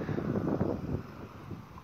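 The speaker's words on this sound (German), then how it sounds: "Ist ein bisschen windig." Wind blows across the microphone at a campsite beside a lake, a soft rumbling rush that swells and then eases, with no talking.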